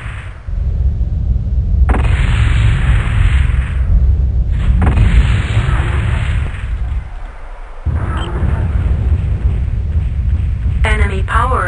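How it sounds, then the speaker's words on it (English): Booming explosions of an enemy mech being destroyed in the Netmech video game, loud and rumbling in repeated bursts with short gaps, under a synthetic announcer voice. "Enemy mech destroyed."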